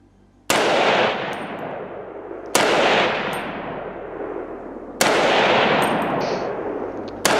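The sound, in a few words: rifle gunfire from a Helsby AKM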